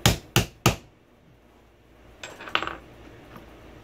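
Three sharp, loud hammer strikes on a rivet driver setting a capped rivet, in quick succession, followed by a few lighter metallic clinks and taps.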